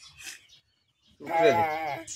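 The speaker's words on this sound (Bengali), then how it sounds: "ছাগল এসে পড়েছে।" A goat gives one loud, close, wavering bleat, preceded by a shorter, softer call and a brief pause of near silence.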